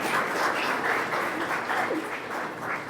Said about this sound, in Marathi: त्यांच्यासाठी जोरदार टाळ्या एकदा होऊन जाऊ